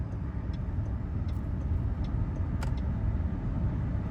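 A Mahindra BE 6 electric car accelerates, heard from inside as a steady, dense low road and motor hum with a few faint ticks above it.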